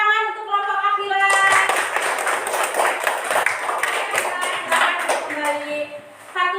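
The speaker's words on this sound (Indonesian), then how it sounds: "Tepuk tangan untuk kelompok Akila" Classroom students clapping for a student group, a burst of group clapping between stretches of a speaking voice, the clapping fading out before talk resumes.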